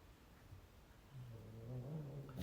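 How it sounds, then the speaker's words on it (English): Cats fighting beneath a floor from a nearby alley: a low, drawn-out growl rises about halfway through and holds steady, fairly faint over quiet room noise, with no talking. "I have cats fighting underneath me, so ignore if you hear growling, if you hear trilling"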